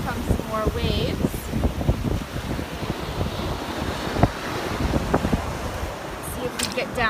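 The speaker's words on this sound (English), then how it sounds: "More waves." Ocean waves break on a beach at sunrise, a rolling, rushing wash mixed with buffeting wind on the microphone, with a voice talking briefly nearby.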